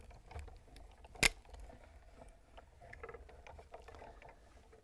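A Sizzix die-cutting machine presses cutting plates through its rollers, giving a faint, steady mechanical grinding with soft clicks and one sharp tick, close and quiet.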